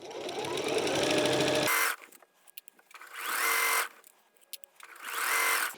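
A sewing machine stitches through bulky Cuddle plush fabric for a scarf in three separate runs of fast, steady whirring, with quiet handling clicks in the gaps, close up.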